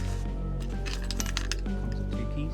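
Two small metal keys for a Land Rover Defender 90 jingle together, giving a cluster of bright, close clinks and rattles over a couple of seconds.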